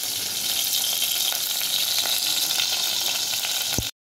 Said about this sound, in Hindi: ये 2 टेबल स्पून मैंने ऑयल डाला है इसके अंदर, और इसमें डाल देते हैं ये लहसुन अदरक साबुत ही डाल देंगे